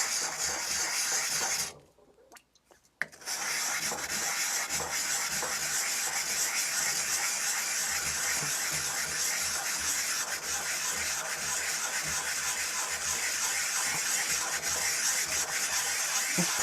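Chef knife rubbed in circular motions across a Suehiro Gokumyo GMN200 20k-grit whetstone, giving a loud, steady, raspy grinding that runs almost throughout, broken only by a short pause near the start.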